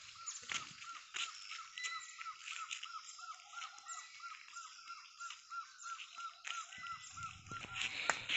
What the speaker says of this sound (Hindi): बहुत सारी चिड़िया बोल रही है, वैसे सुबह सुबह ज़्यादा बोलती है।